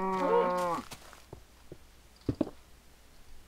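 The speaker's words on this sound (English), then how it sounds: "Get out of here, cow." A Minecraft cow lets out one loud, close moo with a bending pitch at the start, followed by faint knocks and clicks of block placement.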